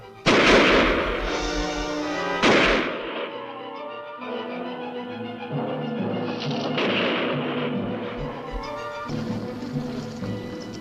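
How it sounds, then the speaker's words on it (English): Gunfire at a monster in a 1958 film, a loud burst of shots with explosive booms that blend into a dense, sustained roar of noise and dramatic score. "Fire over its head!"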